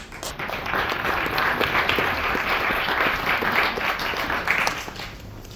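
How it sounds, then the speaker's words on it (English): A crowd at an interfaith networking event applauds steadily to welcome a speaker onto the stage, a sustained even wash of clapping heard on its own. "So please welcome Mark on stage with a round of applause."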